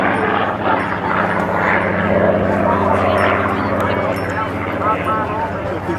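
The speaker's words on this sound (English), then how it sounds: "Jim Beasley is going to be turning the aircraft around and coming back from the right in a photo pass" Spitfire Mk XVIII fighter flown by Jim Beasley making a display pass, its piston engine a loud, steady propeller drone that holds strong and full throughout, with a faint voice talking underneath.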